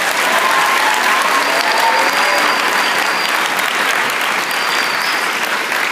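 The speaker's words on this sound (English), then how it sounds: "Give a good hand to Mr. Nolte." An audience at a Christian school Christmas program claps in sustained, dense applause that stays at an even level throughout, with faint crowd murmur mixed in.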